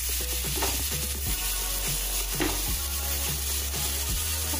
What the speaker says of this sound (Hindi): और अभी ये ग्रीन चिली सॉस डाल देते हैं। सबको अच्छी तरह से मिला दें।